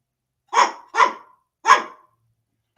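Dog barking close by in a home, three loud sharp barks in quick succession followed by the start of a fourth, with silence between them and no talking.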